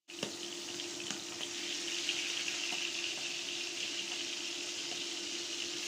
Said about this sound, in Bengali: মাছগুলো উল্টিয়ে পাল্টিয়ে একটু লাল লাল করে ভেজে নেব।